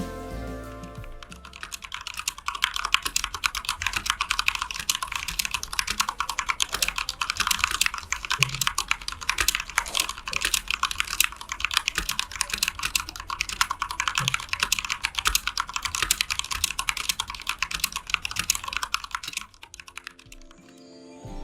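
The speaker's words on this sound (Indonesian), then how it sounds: "footage suara dari Dariu A87 yang menggunakan Cherry MX Black Switch ini" Rapid, continuous clacking of a Dareu A87 tenkeyless mechanical keyboard with Cherry MX Black switches being typed on, close up and steady for about twenty seconds before stopping.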